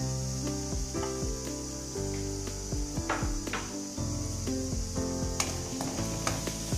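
Coriander powder, cumin powder and garam masala fry in a pan for methi paneer masala, giving a constant sizzle with a few scraping stirs, all under a steady background tone.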